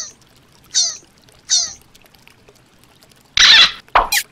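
Toy sea turtle dropped into yellow-dyed water, a couple of short squeaky bursts followed by a loud splash and a brief bubbling plop close by.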